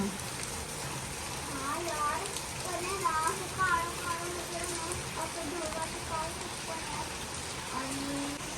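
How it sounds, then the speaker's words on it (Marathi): Heavy monsoon rain pours down in Pune in a steady, dense hiss, with thunder-season voices talking faintly beneath it. "खूप पाऊस पडतोय मोठा"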